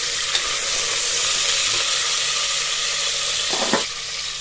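Vegetables sizzling in hot oil for a vegetable curry, a loud continuous crackle, with a few scrapes of a spoon stirring the pan.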